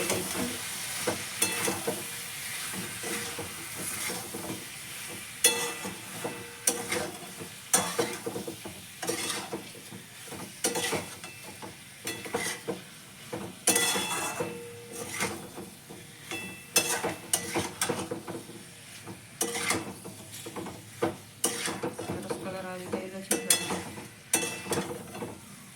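Chicken is stirred with chili powder in a hot pan, with a continuous sizzle broken by repeated scraping and clinks of a spoon against the cookware, close and fairly loud.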